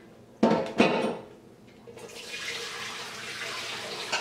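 A couple of clanks from a pan used to make cinnamon candy in a sink, then a tap starts and hot water runs steadily into it with a soft hiss.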